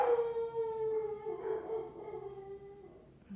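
Dogs howl in a long, wavering, sliding cry that rises and falls over a few seconds, moderately close and fading toward the end, with no talking.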